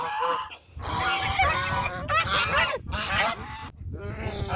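Geese honk repeatedly at a farmyard with free-ranging poultry, loud and close in overlapping, nasal bursts with brief gaps between calls.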